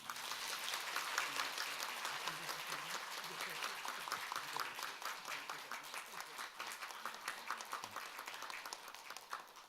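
A church congregation claps during a Bible-survey course graduation ceremony, a fairly soft but continuous round of applause with distinct individual claps, steady from start to finish.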